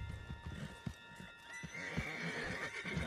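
Horses in the Western video game Red Dead Redemption 2 whinny and snort while hooves clop along, close and fairly quiet, with a soft game tone hanging in the background.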